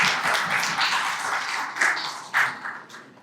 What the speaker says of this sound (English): I will clap for him.